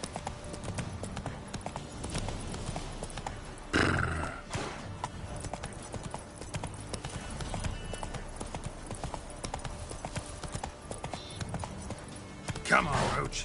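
Hoofbeats of the horse Roach galloping in The Witcher on PS5, a rapid continuous clip-clop rhythm with a couple of louder snorting or whinnying accents, under quiet game ambience with brief speech.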